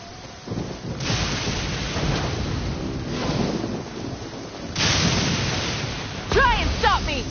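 A video game thunderstorm rumbles with heavy rain and wind, several loud thunder rolls surging and fading in waves, and a crackling burst near the end, all close and filling the space.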